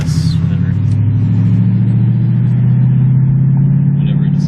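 A Ford Mustang GT 5.0 fitted with a shift kit drones steadily from inside the cabin with a firm low engine hum, its pitch sagging slightly as it shifts, while a voice talks faintly over it.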